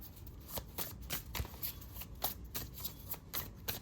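Light Seers tarot cards being shuffled by hand, a quiet run of crisp riffling flicks and soft card slaps in an irregular rhythm, close and alone.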